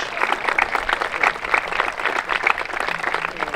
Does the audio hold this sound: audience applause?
yes